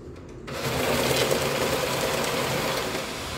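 An HNB cash deposit machine draws in a stack of banknotes, giving a loud, continuous mechanical whir and rattle that starts abruptly and runs steadily for about three seconds.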